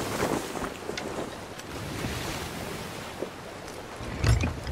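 Continuous ocean waves and rushing wind in the pirate sailing game Sea of Thieves, a dense, steady wash with a slightly louder surge near the end.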